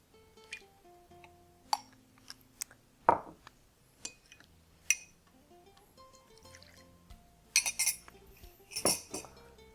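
Full-fat coconut milk and dissolved yeast being stirred in a mixing bowl, with sparse utensil clinks and taps against the bowl, soft liquid sloshes, and a few sharper knocks, close and quiet with no voices.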